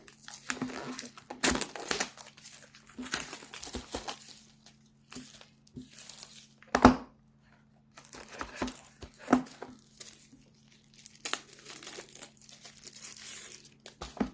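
Plastic packaging is torn open and handled nearby, with intermittent bursts of crinkling and ripping separated by short quiet gaps over a faint steady hum.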